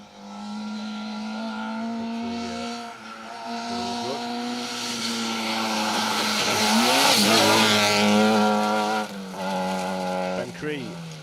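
A Vauxhall Corsa rally car drives through a forest stage, its engine revving hard and climbing through the gears with shifts and a brief tyre squeal, loud and close throughout.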